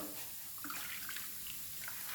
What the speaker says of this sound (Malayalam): അപ്പോൾ നമുക്ക് ചൂടുവെള്ളം ഒഴിക്കാം ചൂടുവെള്ളം എടുത്തിട്ട് ഒരു കപ്പ്